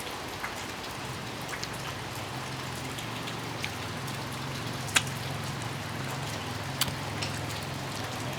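Rain on a wet day pours down in a steady, even hiss, with occasional sharp drips striking a nearby surface and a faint low rumble underneath, no voices present.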